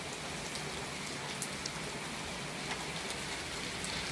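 Rain falls steadily on a stormy day, a dense patter of drops with a few sharper close taps standing out against the constant wash, soft overall and with no talking.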